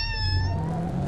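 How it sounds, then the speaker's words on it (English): A house cat meows in one drawn-out, wavering call, close and clear over a low background hum, with no voices. "My little brother's cat's talking to me."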